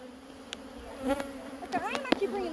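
Honey bees buzz around an open hive while a frame is carried during a hive split, a steady close hum with individual bees whining past, plus brief muffled voices.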